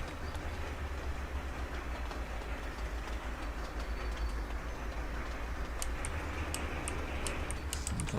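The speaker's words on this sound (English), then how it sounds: "there's a queue of trains coming down" Trains run on rails in the Sweet Transit video game: a steady, low rumble with faint rail clatter throughout and a run of sharp ticking clicks in the last few seconds.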